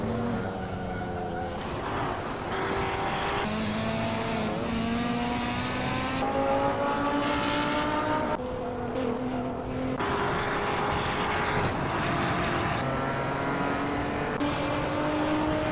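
A loud race car in a Hot Wheels racing series, engine roaring and revving through repeated gear shifts with rising and falling pitch, close and continuous, with brief tire squeal as it drives hard.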